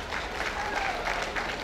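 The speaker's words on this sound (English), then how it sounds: "A round of applause for him, please." A crowd at a company summit presentation claps in sustained, even applause, close and lively, with faint voices mixed in.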